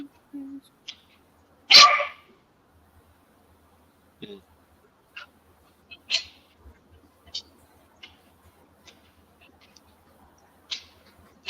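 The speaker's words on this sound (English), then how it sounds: "Whenever my dog is angry at the world, he barks at this very particular corner in her den." A dog barks once, sharp and close, at a particular corner of a den, followed by a quiet stretch of small scattered clicks and taps.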